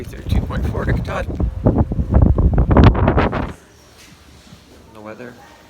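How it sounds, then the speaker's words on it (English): Gusty, cold wind on Mount Washington roars and buffets the microphone loudly for a few seconds, with a voice talking over it, then drops to a quieter rumble. "the weather is so bad up here, the wind's blowing so"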